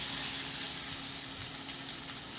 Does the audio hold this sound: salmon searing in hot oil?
yes